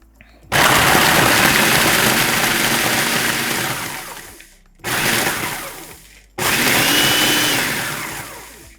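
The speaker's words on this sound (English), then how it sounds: "So we're just gonna grind some of these cookies." A kitchen blender grinding about a dozen cookies into crumbs for a small peanut butter cheesecake base, loud whirring run in three pulses, the first long, the next two shorter.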